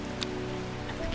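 A steady hiss of rain patters continuously, with a faint tonal hum running underneath and no voices.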